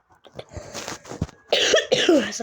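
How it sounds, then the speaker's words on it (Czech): A few quick coughs, the last ones harsher and louder, close to the listener with no talking. "to kašlu"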